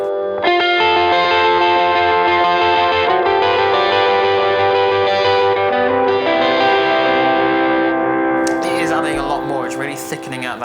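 Electric guitar playing broken chords through a delay effect with chorus and distortion, notes ringing and repeating into a thick, ambient wash; loud and continuous, no voices.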